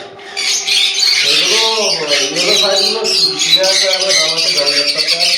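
Pineapple conures at a home breeder's bird sale squawking, a dense run of loud, harsh, rasping calls overlapping continuously and close by.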